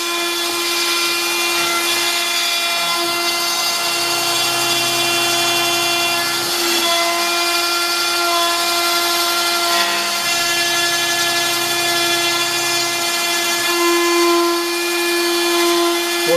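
An X-Carve CNC router cuts plywood with a loud, continuous high-pitched whine and steady motor hum, the tone shifting slightly as the bit moves through the sheet, with no voices.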